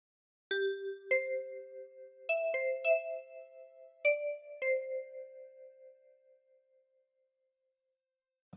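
Amazing Grace phrase plucked on a ten-key kalimba: a slow sequence of about seven bright, bell-like metal tine notes, each ringing and overlapping before fading away into silence.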